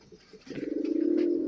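A caged pigeon gives one close, throaty coo that swells into a rapid, pulsing rolling call, loud and alone.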